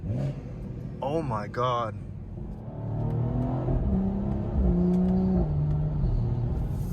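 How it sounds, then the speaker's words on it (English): BMW M240i xDrive with a B58 engine and XHP Stage 3 transmission tune, engine revving and rising through rapid gear changes with turbo whoosh, loud and close inside the cabin, while a voice exclaims briefly over it. "Listen to the downshifts in comfort. I can hear the turbo spool down now."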